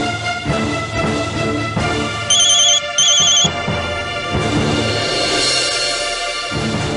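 A loud electronic phone ringtone plays a steady melodic tone pattern, with brief high beeps in the middle, and no voices.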